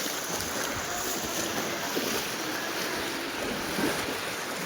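Floodwater of the swollen Malan river at Mahuva rushes in a steady, loud broadband roar, with wind buffeting the microphone and no voices over it.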